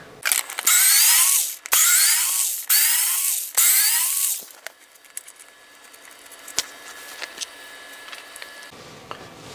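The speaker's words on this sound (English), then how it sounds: "I'm going to have to take some more screws out, I think." A cordless drill backs screws out of a 1999 Godin Radiator electric guitar in four loud, close whirring bursts with rising pitch, followed by quieter clicks, taps and handling of small parts.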